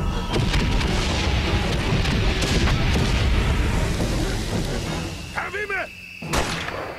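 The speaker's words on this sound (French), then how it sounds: "ça passe entre les obus" Artillery shells explode in the WWI game Soldats Inconnus: heavy, rumbling booms roll almost without a break, then a whistling sweep and a sharp final blast stand out near the end.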